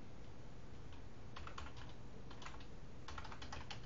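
Quiet clatter of a computer keyboard as text is typed in the vi text editor, with short clustered runs of keystrokes separated by pauses against a faint background hiss.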